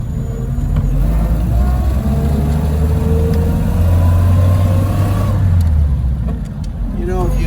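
A 1928 Hupmobile Victoria Opera Coupe drives along, its engine loud and close with a steady low drone that rises in pitch as it accelerates through the gears, under continuous road and wind rumble.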